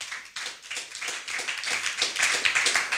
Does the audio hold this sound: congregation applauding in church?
yes